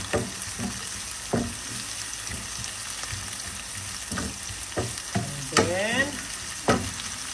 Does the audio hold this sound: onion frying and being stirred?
yes